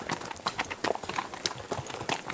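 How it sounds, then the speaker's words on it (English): Horse hooves clip-clop steadily on a mountain trail ride, with a second horse being ponied alongside, giving a close, continuous uneven rhythm of hoof strikes. "So I get to ride Yoga Meister today. And we're ponying Q"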